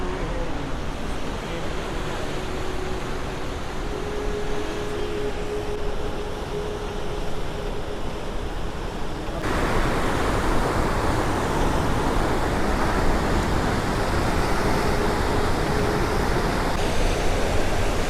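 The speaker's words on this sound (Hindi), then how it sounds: "बहुत तेज़ आवाज़ है पानी की।" Loud, continuous rushing water roars throughout, a dense steady wash of a powerful waterfall on the Ganges at Gangotri in the Himalayas, growing slightly louder partway through.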